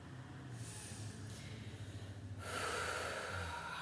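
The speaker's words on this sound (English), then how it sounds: "Take a deep inhale, we lift, and exhale, we fold. Finding that ujjayi breath." Slow yoga breathing during butterfly pose: a soft, hissing ujjayi breath drawn in, then a stronger, airier exhale in the last second or so, close and steady with no talking.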